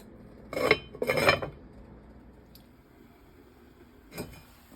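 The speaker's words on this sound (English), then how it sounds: "So now we're just gonna put the lid on it, and we're gonna bring it to a boil" A metal lid goes onto a pot of lemon chicken orzo soup: two close clanking knocks of metal on metal, then a faint tap and a later softer clink in a quiet kitchen.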